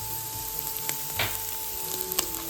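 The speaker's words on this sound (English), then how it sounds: "Still don't want that garlic to burn, so you want to keep moving things around" Garlic frying in a pan with chickpeas, spinach and Parmesan, stirred now and then: a steady close sizzle with brief scraping stir sounds and small pops, no voices.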